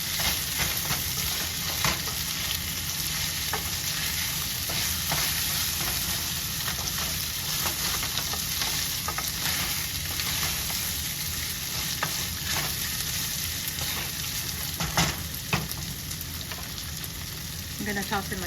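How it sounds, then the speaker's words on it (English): Chicken browning in a hot pan, a steady dense sizzle and crackle of frying with occasional stirring scrapes, loud and continuous throughout with no talking. "my chicken is beginning to brown and crust up"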